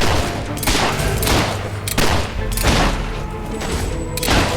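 Repeated bursts of gunfire and booming blasts from a war battle in the video game Fable 3, loud and close, with shots arriving in uneven clusters over a continuous rumbling din.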